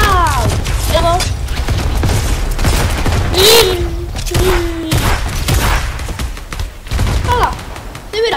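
Repeated sniper and gunfire shots in the video game Fortnite, sharp cracks and booms scattered irregularly across the clip, mixed with whooshing game effects and players talking over them.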